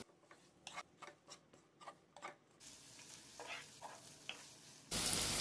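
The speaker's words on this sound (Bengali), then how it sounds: "লো ফ্লেমে ফ্রাই করে নিচ্ছি।" Chopped onion and garlic fry in oil on a low flame. Rhythmic scraping strokes of a spatula come first, then a soft, even sizzle with occasional stirs, swelling louder at the very end.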